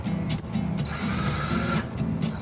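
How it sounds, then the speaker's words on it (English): A power drill bores into material at a holiday rental home. It gives a loud, whirring buzz for about a second in the middle. Short motor bursts and handling noise come before and after it. "What are you power drilling?"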